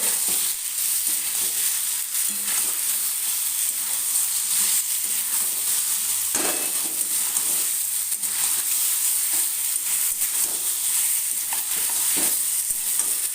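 Spices sizzle steadily while being sautéed for a rohu fish curry with vegetables, a dense continuous frying hiss close by with repeated stirring scrapes throughout, no voices.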